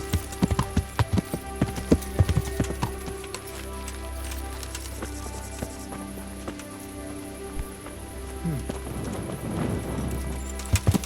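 Horse hooves clip-clop in a steady trotting rhythm while riding in the video game Kingdom Come: Deliverance, moderately close, with faint rain-like patter underneath.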